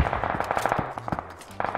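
Gunfire in the battle royale game PUBG: a rapid burst of automatic shots crackling in a dense, loud stream for under two seconds, with repeated sharp reports close together.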